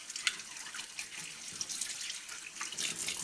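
Tap water runs steadily into a basin as garlic is washed by hand, a continuous close splashing hiss with small drips and clinks and no talking.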